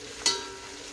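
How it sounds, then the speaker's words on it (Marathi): Ginger garlic paste dropped into hot oil in a pan for chicken biryani, a sudden sharp sizzle burst that quickly settles into a faint steady frying hiss. "आपण आलं लसूण पेस्ट टाकूया. चांगली परतून घ्यायची पेस्ट 1 मिनिटभर."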